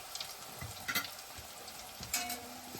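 Onion rings deep frying in hot oil, a faint steady bubbling sizzle with occasional soft pops and light clinks, quiet and continuous throughout.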